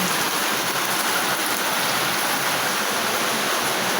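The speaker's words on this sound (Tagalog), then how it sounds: "lakas ng ulan" Heavy rain falls steadily on an outdoor property in wet weather, a dense, unbroken wash of hiss that stays loud and even throughout with no voices.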